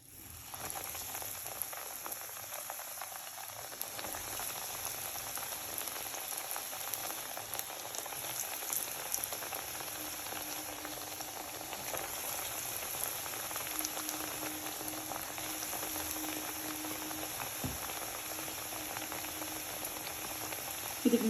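Bread pieces frying in hot oil in a home kitchen, a steady close sizzle and bubbling that runs evenly throughout with no talk over it.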